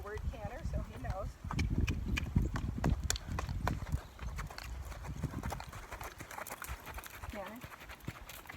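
Rhythmic clip-clop of a gaited horse's hooves moving at a canter during a training session, steady and fairly close, with a rider's voice speaking over the hoofbeats throughout.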